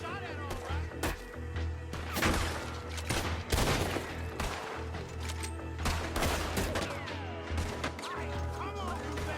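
Gunshots and a fusillade in the Western video game Red Dead Redemption 2, with repeated cracks and crashes of a gunfight over a steady low game rumble, loud and near, while someone talks.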